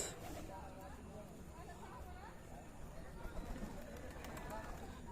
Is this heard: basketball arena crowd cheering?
no